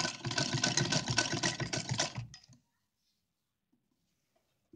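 A sewing machine stitching along a lace edge gives a steady, close, rapid mechanical whirring for a couple of seconds, then stops abruptly and leaves near silence.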